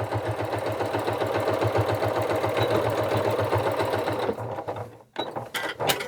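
A sewing machine stitches down one side of a Christmas stocking seam with a fast, steady mechanical chatter, running close and evenly before stopping with a few short bursts and clicks at the end.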